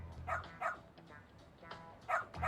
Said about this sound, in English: So, you're Amasawa's dog, huh?